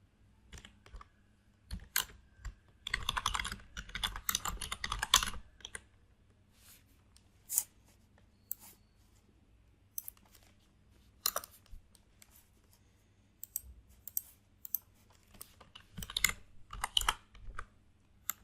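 Typing on a computer keyboard while writing a shell script, with a dense burst of rapid keystrokes followed by scattered, sparser clicks and pauses, close and fairly quiet.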